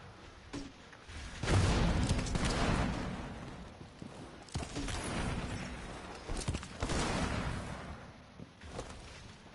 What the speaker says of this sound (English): There's that double explosion I was talking about earlier.